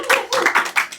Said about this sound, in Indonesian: Tepuk tangan dulu buat Pasuruan Inspiratif.